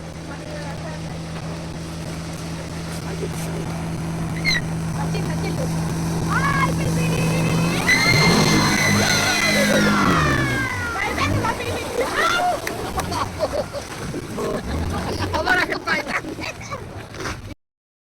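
A boat circling on the water during a family trip in Telangana, motor droning steadily under ongoing talk, then a swell of splashing and churning water as it turns, voices continuing afterward.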